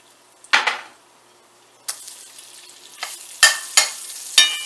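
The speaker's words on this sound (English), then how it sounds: "I just want to scrape some of the fat and some of the flavor off the bottom of this skillet" A spatula scrapes across the bottom of a sizzling skillet to loosen sausage fat and browned bits for gravy. Several sharp, close scrapes come in an uneven rhythm over a low hiss of frying, with no talking.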